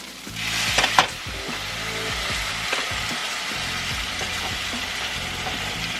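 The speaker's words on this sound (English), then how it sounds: "you're going to start adding in the stock a half a cup at a time and stirring constantly" Mushroom risotto simmering in a pan as stock is added and stirred constantly, a close, steady sizzle and bubbling with a few sharp splashes and scrapes near the start, no voices.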